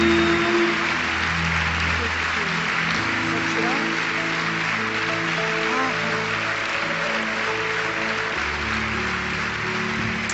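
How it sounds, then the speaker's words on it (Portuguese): Church congregation claps in praise while sustained organ or keyboard chords play, the applause a soft, steady wash partly blended beneath the music. "que a igreja possa recebê-la com uma salva de palmas a Jesus"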